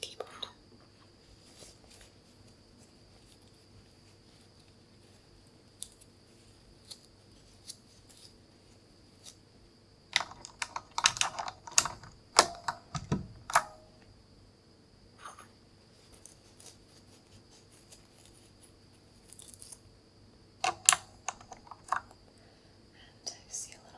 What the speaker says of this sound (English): I'm going to wipe off each key and put it back on the keyboard